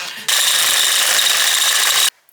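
A power drill bores a hole through Harley-Davidson Dyna T-bar handlebars, a loud, steady high-pitched whine that starts abruptly, runs about two seconds at constant pitch, then cuts off sharply.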